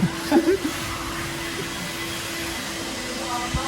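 A vacuum cleaner runs while a car is being cleaned at a car wash, giving a steady, fairly loud motor drone with a constant hum throughout. A voice speaks briefly over it at the start.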